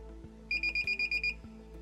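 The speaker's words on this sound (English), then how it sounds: "When you first plug it in, you should get 3 beeps" An ALPRE2 card reader plugged into a PC gives a run of about eight quick, high electronic beeps in steady rhythm, clear and close over a faint electrical hum.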